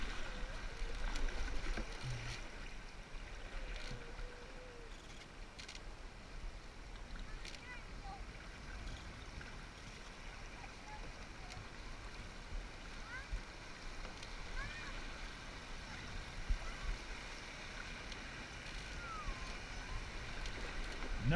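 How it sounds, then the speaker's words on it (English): Canoe paddling through river rapids on the Pollet River, with a steady broadband rush of moving water throughout and faint splashes of paddle strokes, no clear voices. "Alright, now paddle forward."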